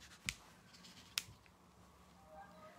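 Small scissors make two crisp snips through sugar-paste flower petals, quiet and close with a short gap between cuts, in a calm kitchen with no talking.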